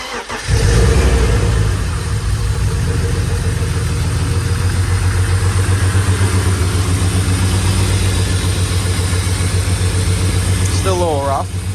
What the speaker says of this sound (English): We got David in the car. He's about to crank her.